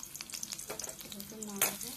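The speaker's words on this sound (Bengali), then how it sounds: "আমি কড়াই সর্ষের তেল দিয়েছি, কাঁচা পেঁয়াজ দিয়ে দিলাম" Raw onion sizzles in hot mustard oil in a wok, a steady crackling hiss with a brief stir toward the end.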